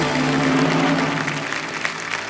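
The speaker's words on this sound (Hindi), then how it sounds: "ताली बजाइए" The studio audience of the Hindi game show Kaun Banega Crorepati applauds a correct answer, a loud continuous roar of clapping with a held music tone underneath that fades partway through, the applause carrying on alone.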